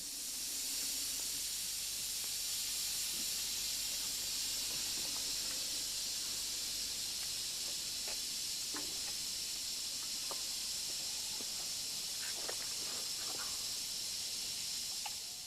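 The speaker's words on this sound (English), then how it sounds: "several locomotives are in the process of getting steam up." A continuous loud hiss of escaping steam from model steam locomotives raising steam in a shed, steady throughout with faint clanks and knocks underneath.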